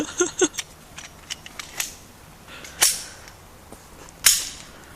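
Glock pistols fired at a distance, several sharp cracks with the strongest shots spaced a second or more apart among fainter pops.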